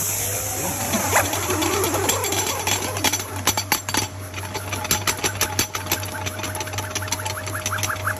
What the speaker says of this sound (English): it's time to turn on the vacuum